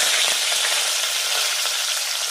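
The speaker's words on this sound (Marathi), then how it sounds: "आता यामध्ये 2 चमचे मोहरी टाकायची आहे, 2 चमचे जिरे टाकायचे आहेत, कढीपत्त्याची पानं टाकायची आहेत" Mustard seeds, cumin and curry leaves crackle in hot oil, a dense, loud, continuous sizzle with faint pops scattered through it.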